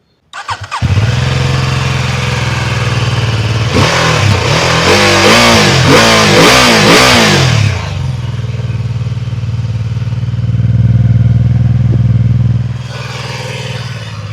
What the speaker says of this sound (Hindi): पैरेलल ट्विन इंजन है, तो सबसे पहले इसका एग्जॉस्ट सुनते हैं